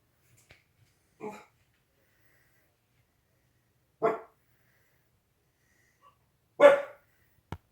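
A dog barks three times in short, separate bursts with long pauses between, fairly close and loud in an otherwise quiet room.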